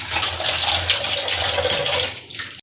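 Water runs steadily from a kitchen tap while dishes are washed, a close, continuous splashing gush that stops abruptly at the end.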